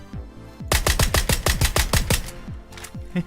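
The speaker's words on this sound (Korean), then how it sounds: "하여튼 집에서 총소리 났거든요" Rapid bursts of PUBG (Battlegrounds) gunfire, a quick string of sharp shots followed by a couple of scattered single shots, loud and close.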